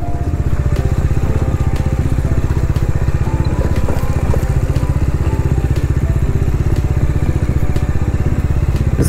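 A motorcycle with a rear shock absorber problem rides along a dyke road near Burla, Sambalpur, its engine a loud, steady, close throbbing drone with rattling clatter throughout.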